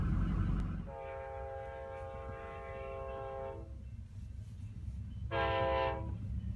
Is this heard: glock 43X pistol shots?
no